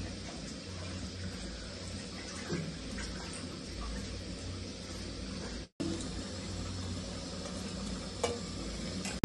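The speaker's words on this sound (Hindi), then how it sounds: "और थोड़ा सा तड़का लग रहा है" Gentle sizzling of butter in a hot pan for tempering, a steady crackle with occasional faint clinks, continuing for several seconds.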